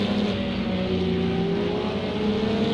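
Porsche race car in Project CARS 2 at the Nürburgring: a loud, sustained engine drone with a steady pitch held near and continuous throughout, with no voices over it.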